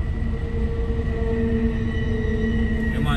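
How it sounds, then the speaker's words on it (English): A long freight train rumbles past continuously in rural Appalachia, with a steady low roar and faint high tonal whine from the rails, loud and close. "So I probably sit down here for a while and wait for the train to clear."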